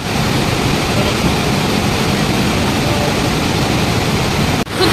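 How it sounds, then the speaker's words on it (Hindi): Rushing river water in the Parvati Valley near Kasol, Himachal, a loud, steady broadband roar of flowing water that fills the whole stretch alone, with a brief dip and bump at the very end. "पानी का शोर भी मुझे बहुत अच्छा लग रहा है"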